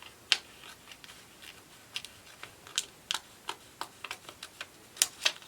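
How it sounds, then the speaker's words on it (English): Scissors trim an iron-on vinyl liner for a Cricut face mask, producing a series of sharp, close snips and clicks at an irregular pace over quiet room tone. "just trim the liner with a pair of scissors"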